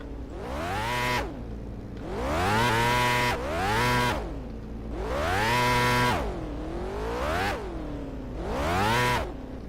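A Formula Micro race car at Martinsville strains at a burnout attempt, its small engine revving up and falling away in five or six loud, close bursts separated by brief lulls, with no talk.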